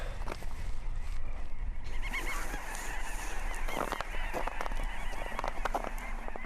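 Goose-like birds honking repeatedly in the distance in Svalbard, a chorus of calls over steady outdoor background noise.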